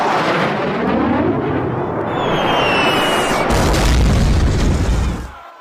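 An explosion at a shopping mall as a sound effect: a loud, sustained booming roar that swells to a heavy rumble before cutting off after a few seconds.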